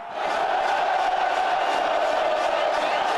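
Ferroviária supporters in a football stadium roar after a goal in the Espírito Santo state championship: a loud, continuous crowd roar of cheering and shouting that holds steady throughout.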